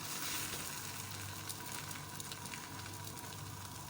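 A fish paratha fries in a tablespoon of ghee on a pan over medium heat, giving a steady, faint sizzle with soft crackles throughout.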